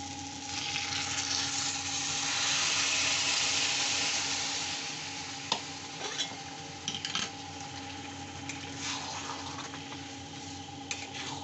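Boiled dal being added to hot oil and stirred in a pot, a continuous close sizzle with occasional sharp clicks and scrapes of a spoon against the metal.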